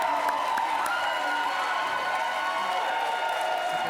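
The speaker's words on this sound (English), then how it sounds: "We're listening to that crowd." A large audience applauds and cheers in a steady, continuous wash of clapping and voices, played back at a moderate level.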